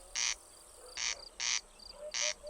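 Corncrake calling at night, a loud, dry, mechanical two-part rasping croak repeated at a steady pace, about four harsh bursts, fairly near against a quiet background with faint insects.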